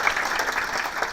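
An audience at a corporate investor briefing claps, a dense, continuous burst of applause in a brief snippet.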